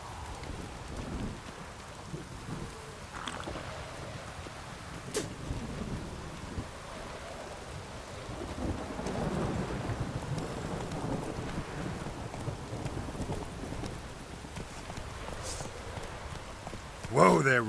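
Steady rain and rumbling thunder from a stormy scene in The Witcher 3, a constant wash of downpour with low rolls swelling near the middle, plus faint clip-clop of a horse and brief game voices.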